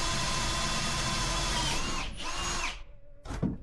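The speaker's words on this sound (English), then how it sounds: "I can't get my drill too far back in there" A power drill whirs steadily at close range for about two and a half seconds inside a wall during a killer bee hive removal, then winds down and stops, followed by a brief mechanical clatter.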